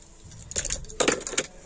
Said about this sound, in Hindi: हमने चाबी निकाल दी